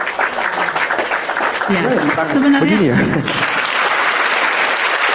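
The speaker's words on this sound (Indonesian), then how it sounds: "Saya kasih tepuk tangan dulu ya" Applause breaks out at an Islam-versus-Christianity debate, a dense steady clatter of clapping that follows and partly overlaps someone speaking.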